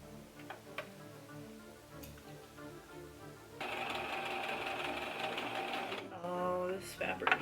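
Sewing machine running a test line of stitching on glove fabric after being threaded, a rapid mechanical ticking that starts partway through and carries on steadily, with some faint talk at the start.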